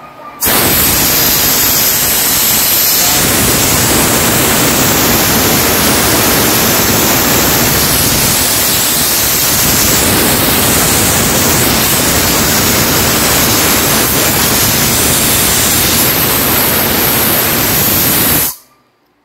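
Loud, steady rush of compressed air blowing out of a twin air compressor on a Chevrolet Trailblazer setup, a broadband hiss that runs nearly continuously for most of the clip before cutting off abruptly.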